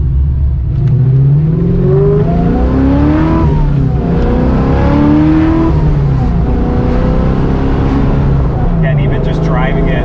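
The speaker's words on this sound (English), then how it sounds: "I love the sound of this car. It's one of my favorite sounding cars that we've done." Naturally aspirated Coyote V8 swapped into a Foxbody Mustang, around 530 wheel horsepower, revving loud and close through rising and falling pulls with a deep rumbling exhaust, a voice talking over it.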